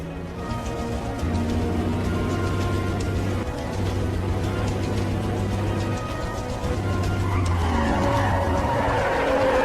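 Cars in a film scene speeding toward a collision, with sustained loud tire squeals and skidding over roaring engines, the screeching holding in long bursts before a harsher, noisier rush near the end.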